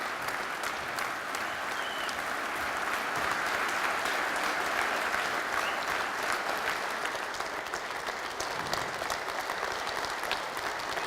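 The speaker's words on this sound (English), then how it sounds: "give him a great big round of applause" Sustained, dense applause from an audience welcoming a speaker at a speech event, steady and even throughout with no talking.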